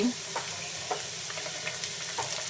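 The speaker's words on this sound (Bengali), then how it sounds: "এখন আমি আদা রসুন দিচ্ছি" Ginger and garlic paste going into browning onions in a hot pan, with a steady, dense sizzle of frying and a few light stirring scrapes, close and continuous with no talk.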